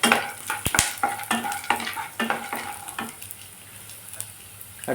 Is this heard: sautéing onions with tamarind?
yes